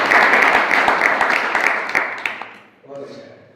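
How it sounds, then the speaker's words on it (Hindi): An audience at a Jain religious discourse in Ambad claps loudly, a dense burst of applause that fades out after a few seconds, followed by a voice speaking. "ताली बजाओ इनके लिए"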